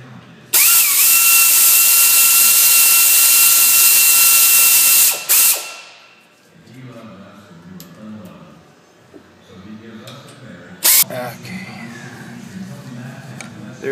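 A ratchet with a three-inch extension loosens a front brake caliper pin on a 2001-2007 Ford Escape, clicking loudly and rapidly for about five seconds, then a short burst and quieter shop noise with a voice talking.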